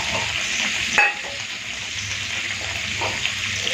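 Steady hissing sizzle of pointed gourd frying in oil, with a utensil clink near the start and no talking.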